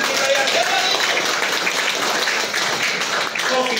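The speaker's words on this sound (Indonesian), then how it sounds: "Beri tepuk tangan dulu yang gemuruh buat Tuhan kita yang hebat." A congregation gives a dense, thundering round of applause for God during a church service. The clapping is continuous and evenly loud throughout, with no pauses.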